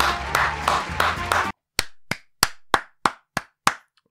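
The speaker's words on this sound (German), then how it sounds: "Bitte jetzt nicht mehr klatschen" Hands clap sharply and close up, several claps over a busy background and then seven crisp, evenly spaced claps in near silence.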